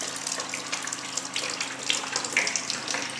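Water pours abundantly from a tap in a steady, close rushing flow with a little splashing, and no voices.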